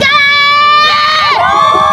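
Loud crowd shouting and cheering at a student protest against MBG and fuel price rises, with voices overlapping in a dense, close, continuous roar.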